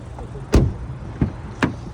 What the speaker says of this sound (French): les vitres électriques